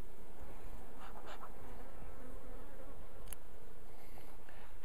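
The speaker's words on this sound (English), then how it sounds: "I've got one guard bee very upset with me." An agitated guard honeybee buzzes close and steady at a constant pitch, alone with no talk, its drone holding level throughout.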